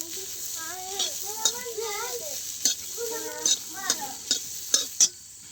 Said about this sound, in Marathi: पहिल्यांदा तेल नाही टाकायचं अजिबात. असंच भाजून घ्यायचं तुकडं.